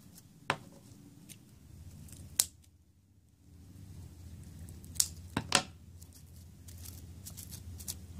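Scissors snip through fabric a few times while a pincushion shaped like an apple is made, giving sharp, close clicks at scattered moments over a quiet, low background hum.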